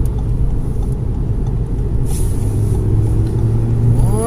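A KAMAZ flatbed truck accelerates on the road, its engine giving a steady, heavy low rumble that holds level throughout and rises in pitch near the end.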